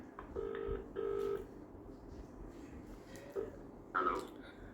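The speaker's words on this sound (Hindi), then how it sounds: "अभी कॉल लगा हुआ है।" Phone call connecting: two short ringback-like telephone tones near the start, then quieter line noise with a couple of brief faint sounds, no clear talk.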